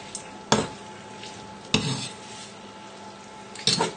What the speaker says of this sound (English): All you're doing is mixing the tagliatelle through and then add in the last remaining lump of tagliatelle